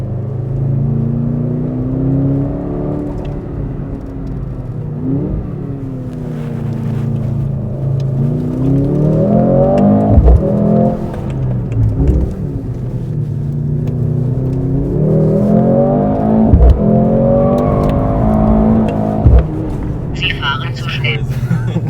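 A Mercedes-AMG C63 S in race mode, with ESP off and manual transmission selected, revs hard and accelerates through repeated rising engine sweeps and gear changes. The engine runs loud and close from inside the car, with some talk over it.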